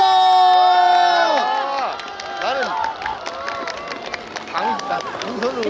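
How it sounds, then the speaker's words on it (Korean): Festival crowd at an outdoor cherry blossom festival cheering and applauding as a singer takes the stage, with loud shouts and whoops over steady clapping and a swelling held tone at the start, voices calling out throughout. "심지가 고든 가수 정혜진 씨를 큰 박수로 모셔오겠습니다."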